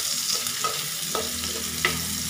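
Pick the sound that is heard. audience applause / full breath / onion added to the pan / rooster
onion added to the pan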